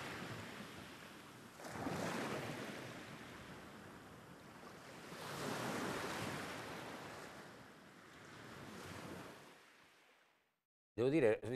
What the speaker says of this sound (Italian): mi stavo soffermando sul rumore del mare